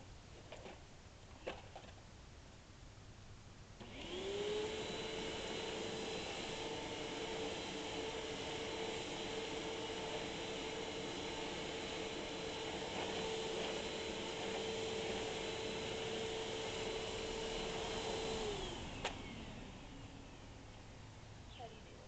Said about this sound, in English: I'm gonna vacuum the grass